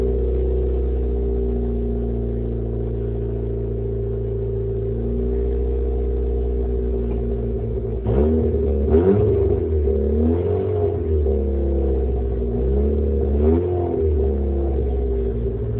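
A B6T engine running on a retrofit fuel tank idles with a misfire and a loud exhaust, a steady close drone with a rough, uneven burble, rising into several revs in the second half.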